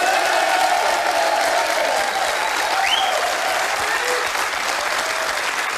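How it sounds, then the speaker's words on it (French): A Belgian television game show studio audience applauds a contestant, steady dense clapping throughout with a brief whoop or whistle midway, loud and close. "qui reste en piste s'appelle Sylvie, ça peut déjà s'applaudir."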